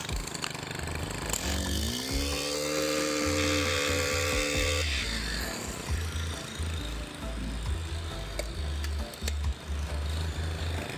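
Old STIHL edger engine running rough after a repair, a loud, steady buzzing idle with a short rising rev near the start, then uneven popping and sputtering throughout.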